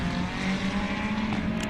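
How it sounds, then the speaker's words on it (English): A GT race car at Red Star Raceway in a 2022 South African MSA GT race holds a steady, loud engine drone as it runs down the long back straight toward turn 12, with no pauses or gear changes. "the Auto House Angel car making its way now down that long back straight we were just talking about, going into turn 12 up ahead"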